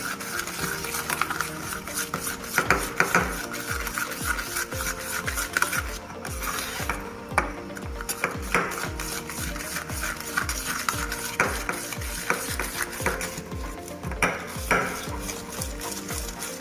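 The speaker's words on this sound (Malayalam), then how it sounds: "അപ്പോൾ നമുക്കിവിടെ ബീറ്ററില്ലാത്തതുകൊണ്ട് നമ്മൾ സ്പൂണിൽ ചെയ്തുകൊണ്ടിരിക്കുന്നു." Spoon stirring instant coffee powder and sugar together in a cup for homemade cappuccino, a close, steady, rhythmic scraping and rubbing that repeats continuously without talk.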